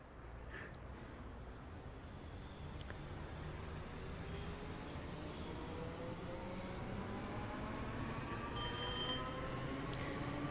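A train in a railway simulator game runs steadily, a low continuous rumble with a slowly rising whining drone and a few faint clicks, heard alone with no talking.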